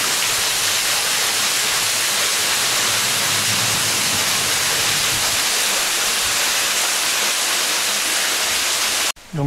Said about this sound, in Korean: 영추폭포에 왔습니다.